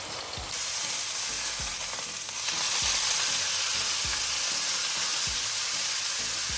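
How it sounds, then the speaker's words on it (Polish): Steady, close sizzling of a beef ribeye steak frying in a hot pan, a continuous crackling hiss with occasional soft pops and thuds, no voices. "Ja mojego steka będę smażyć 3 minuty po jednej a następnie po drugiej stronie."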